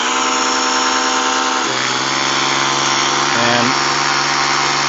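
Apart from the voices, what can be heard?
Ryobi EZ Clean pressure washer running with DIY foam cannon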